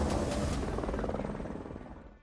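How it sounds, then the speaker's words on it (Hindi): A helicopter flies overhead during election campaign coverage, its loud rotor thumping in a rapid, steady pulse that fades slightly toward the end. "ये आज तक का हेलीकॉप्टर शॉट है"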